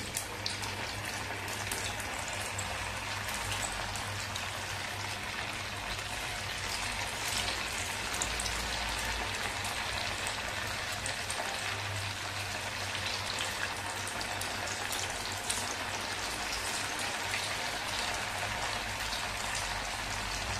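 Grated potato bhaji, a fasting-day fritter, frying in a pan of oil, a continuous soft, rain-like sizzle that stays even and moderately quiet throughout with no talking.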